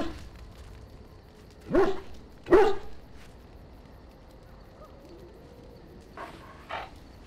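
A dog barks in the video game Dragon Age Origins, two short yips close together followed by two fainter barks several seconds later, over a quiet, humming game background.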